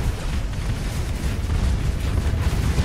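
A Paragon warship blows up in the space combat game Starsector: a dense, continuous low rumbling roar with crackling bursts that holds steady and fairly loud for about three seconds, with no voices.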